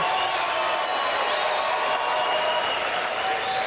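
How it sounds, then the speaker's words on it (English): Crowd applause and cheering fill a bare-knuckle fighting event arena in honor of two fighters after a five-round bout, a steady, dense roar of clapping throughout. "let's have a round of applause for these two warriors"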